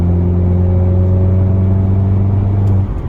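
A Cupra car engine drones loudly and steadily, a low rumbling pull in sixth gear from 45 mph that holds its pitch, then eases off abruptly near the end.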